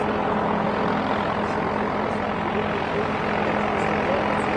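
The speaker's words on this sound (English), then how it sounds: "There you go, touching down the two-seater gyrocopter." A two-seater gyrocopter touches down at Barton Aerodrome, Manchester, its rotor and engine making a loud, continuous, broadband whirring roar that stays even throughout, with a voice speaking over it.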